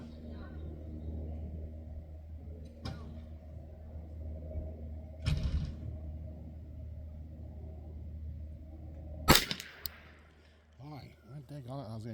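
Three sharp, isolated cracks from a Ruger Custom Shop 10/22 .22lr competition rifle, fired a few seconds apart during an outdoor drone target challenge, over a steady low rumble and some speech.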